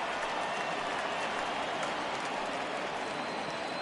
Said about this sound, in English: he receives a nice ovation from this home crowd